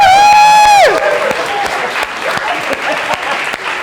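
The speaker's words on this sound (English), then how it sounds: "Great! Applause! Woo!" Audience applause at a talk on physical activity and language learning, rising from a sustained sung or whistled tone into a full, steady burst of clapping from a sizeable crowd that carries on loudly to the end.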